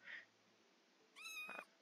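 A cat in Minecraft gives a short, clear synthetic meow in a quiet game scene, preceded by a faint brief chirp.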